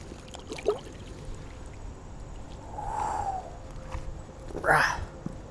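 A caught fish is returned to the water, with a couple of brief splashes, one early and a louder one near the end, over a quiet outdoor background.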